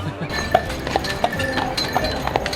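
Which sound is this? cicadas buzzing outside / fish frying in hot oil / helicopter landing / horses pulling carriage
horses pulling carriage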